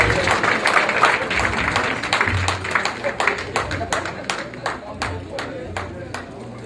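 Crowd applause at a community center building dedication, a steady wash of many hands clapping with sharper individual claps standing out, fairly loud and continuous, with a low murmur underneath.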